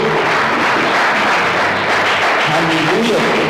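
A church congregation applauds during a worship service, a dense steady wash of clapping close and loud, with voices faintly beneath.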